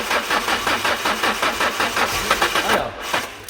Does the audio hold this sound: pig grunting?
no